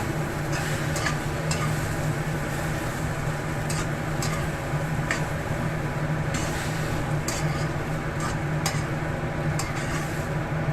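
Thin hot-pot beef slices, cooked with onions and mushrooms, are stirred in a pan: a steady, close hiss of sizzling with scattered light scraping ticks from the utensil throughout.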